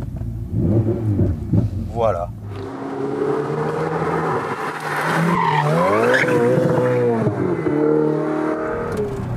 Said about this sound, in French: Et donc, nous allons démarrer cette Ferrari.